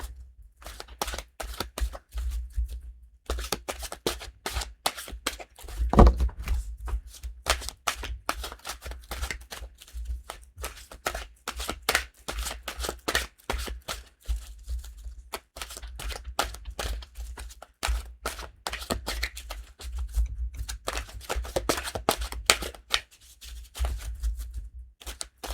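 Tarot cards are shuffled by hand in repeated riffling bursts, crisp close clicks and flutters in uneven rhythm with brief pauses between rounds, a low thump heard once partway through.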